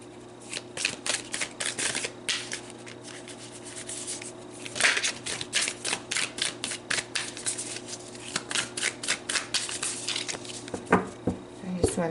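Tarot cards shuffled by hand close up, a repeated rhythm of quick riffling bursts and soft rubbing across the whole stretch, fairly quiet with no talking.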